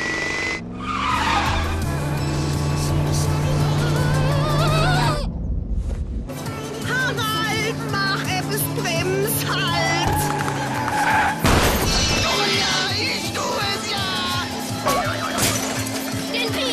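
A car roars at full throttle with tires screeching and skidding, engine howling in rising, wavering pitches, loud and continuous, with voices and cartoonish effects mixed in.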